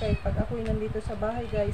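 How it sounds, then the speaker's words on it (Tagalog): A house cat meows loudly and repeatedly, with several drawn-out cries overlapping continuous nearby talking indoors at home. "pasensya na kayo sa ingay ng aking pusa ha"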